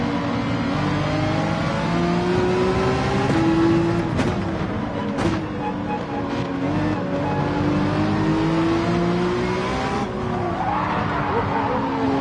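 Ferrari race car engine in the video game Gran Turismo 7 on the Nürburgring, a loud steady high-pitched drone that rises and falls with gear changes, with tire squeal and a brief thump of contact.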